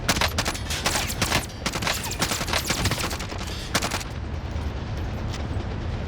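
Video game gunfire in a solo match: rapid, loud bursts of automatic fire and fusillades, close and dense for about four seconds, then easing into a softer, more distant ambient rumble.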